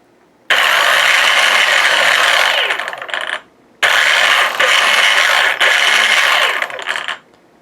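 Motors of a radio-controlled model warship running on a bench throttle test, two loud sustained whirring bursts of about three seconds each, revving up and winding down with a short pause between.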